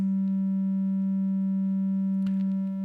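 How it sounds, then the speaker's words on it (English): A synthesizer tone driven hard through distortion toward a square wave holds one steady, buzzy pitch rich in harmonics, loud and continuous, with a brief faint click near the end. "if you keep pushing it, you'll get to a square wave"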